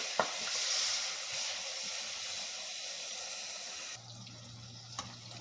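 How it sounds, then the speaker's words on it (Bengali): Tomatoes fry in a pan for a Balti fish curry with spicy coconut sauce, giving a faint, steady sizzling hiss that continues softly throughout with no talking. "তারপরে টমেটো দিচ্ছি, টমেটোটা একটু ভাজা ভাজা করব"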